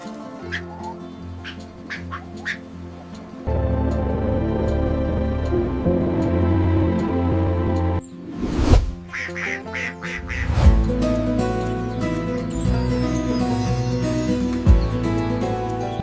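Ducks quack repeatedly on a duck farm, several calls overlapping, close by over a bright musical backing track that runs throughout.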